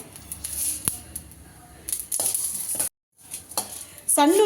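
Mustard seeds, cumin and coriander seeds frying in a pan, with sizzling bursts, a sharp clink of a utensil, stirring scrapes and a brief silence before louder crackling resumes.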